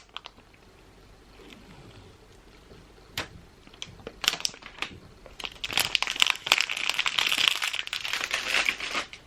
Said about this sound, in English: I'm going to come so close so you can hear all of the peeling